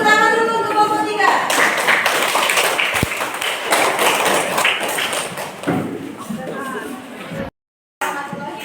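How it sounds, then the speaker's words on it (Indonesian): Audience in a classroom clapping for group 3 of a student teaching practice session, a dense burst of hand claps with thuds and voices mixed in, fading before a brief silence near the end. "Tadi tepuk tangan dulu untuk kelompok 3."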